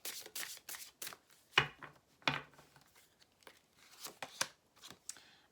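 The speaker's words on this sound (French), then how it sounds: "On va mettre ici les cartes." Tarot-style cards are handled and laid out for a reading, a series of close, crisp slaps and slides on a table with short quiet gaps between them.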